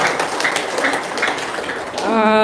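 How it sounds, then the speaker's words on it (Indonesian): Audience applause at a gathering of guests from Malaysia, a steady wash of many hands clapping at moderate loudness, with a voice starting to speak near the end. "Tepuk tangan dulu dong, biar semangat dong."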